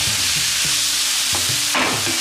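Paneer sautes lightly in a hot pan, a dense continuous sizzle with a few clear scraping stirs of a spatula, the last one louder, heard up close without speech.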